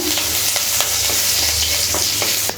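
Mustard seeds crackle and sizzle steadily in hot oil with scattered sharp pops, close and fairly loud, with no voices.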